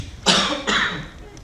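Two quick, harsh coughs from a man recovering from illness during a seminar presentation, close and loud, with a short gap between them and a brief hush afterward.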